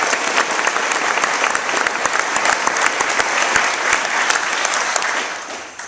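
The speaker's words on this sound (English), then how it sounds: "could I get a round of applause for my classmates?" An audience at an 8th grade graduation ceremony applauds the graduating classmates, a dense, steady wash of clapping from a roomful of people that carries on for several seconds before easing off at the end.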